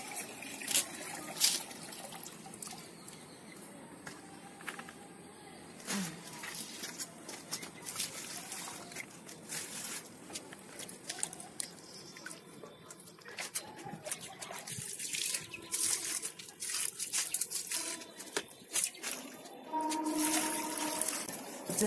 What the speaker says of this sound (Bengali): আমি এখন কাছে জলটা দেবো।